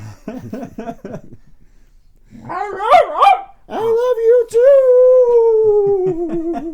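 A dog barks several times up close, then breaks into a long, wavering howl that trails off, with a person speaking briefly between the barks and the howl.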